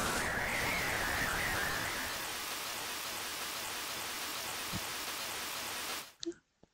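Steady rain pouring in the Pokémon Black video game, a dense hiss that holds loud and unbroken for about six seconds before cutting off abruptly, followed by a couple of faint short sounds.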